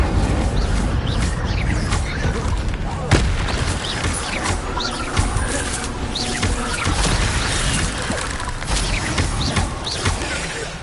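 A fire spell cast in Hogwarts Legacy while exploring Jackdaw's Cave, heard as dense, loud whooshing bursts and booming impacts in continuous combat noise with game sound around it.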